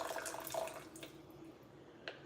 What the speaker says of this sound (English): I'm gonna put a little bit of coconut water in here